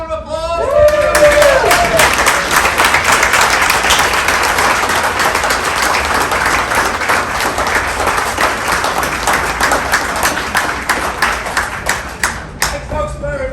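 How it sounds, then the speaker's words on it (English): An audience at a Dodge City museum show applauds, a dense burst of clapping that swells quickly and holds steady before tapering into a few final claps. "How about a round of applause?"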